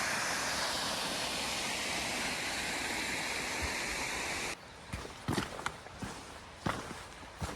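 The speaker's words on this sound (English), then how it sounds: "it's a big, decent sized waterfall" A steady, loud roar of a large waterfall in the Scottish Highlands fills the first few seconds, then drops away to quieter ambience with scattered footsteps.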